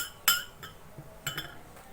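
Metal spoon clinks against a bowl while spice powders, including black cumin powder, are stirred together, giving a few quiet, sharp taps spaced apart with faint scraping between them.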